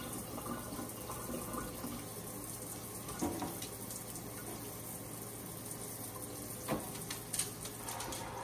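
Shower water runs steadily in a morning bathroom, a soft continuous hiss with a few faint knocks and splashes, heard alone without talk.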